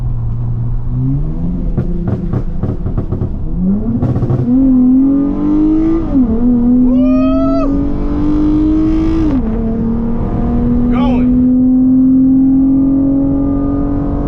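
A car engine revs hard under heavy acceleration on a road, loud and close, climbing in pitch through several gear shifts with brief dips between pulls, then holding a high steady drone.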